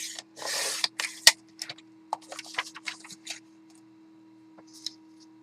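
Paper for a journal is cut into a strip, heard as close, brief rustling and scraping with a few sharp snips and ticks under a steady background hum.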